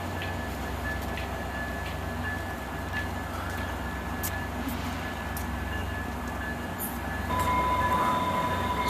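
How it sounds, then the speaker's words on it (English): A southbound commuter train to Provo pulls away from a Salt Lake City platform, a steady rolling rumble with faint wheel squeals and a high tone that grows louder toward the end. "So here's the next southbound train toward Provo."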